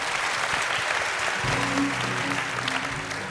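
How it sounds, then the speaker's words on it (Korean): An audience at a university talk concert applauds to welcome a speaker; steady clapping fills the first half, then softens as a voice begins over the fading applause. "그녀가 전해줄 멋진 이야기 박수로 청해 듣겠습니다."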